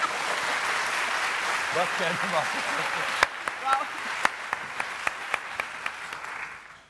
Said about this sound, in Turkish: Alkış alabilir miyim?